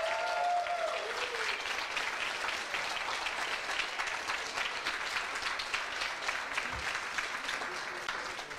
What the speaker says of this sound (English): let's have a huge round of applause to congratulate and encourage them.